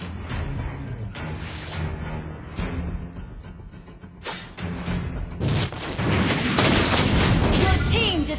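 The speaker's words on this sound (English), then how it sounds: "Your team destroyed a turret." A turret is destroyed in a MOBA video game with booming explosions and crashing impacts over battle effects, the blasts growing denser and louder toward the end.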